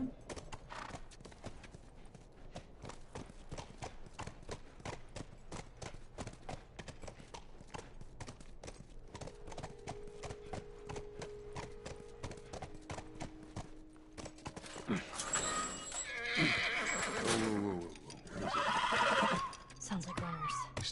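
Horse hooves clip-clop steadily through a video game scene in The Last of Us Remastered, followed by loud whinnying and neighing near the end, with game sounds around it.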